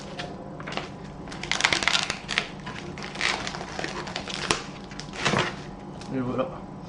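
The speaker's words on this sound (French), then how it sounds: "Donc on retire les scotch." Tape being peeled and pulled off a matte black iPhone 7 box, giving irregular close crackling, crinkling bursts with short pauses, fairly loud throughout.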